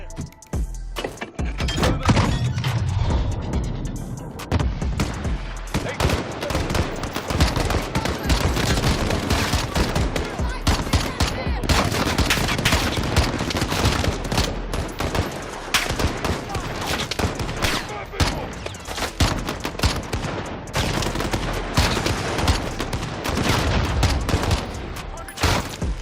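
Sustained gunfire in a Call of Duty: Modern Warfare campaign firefight, dense and loud throughout with rapid bursts and heavy impacts, while voices call out over the shooting.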